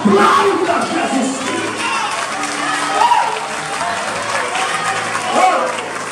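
A church congregation applauds and cheers at a Brazilian worship service, a dense, steady wash of clapping that fills the room, with voices calling out over it throughout.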